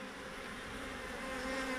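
A honey bee swarm gives a dense, continuous buzzing drone, close and steady, with no voices.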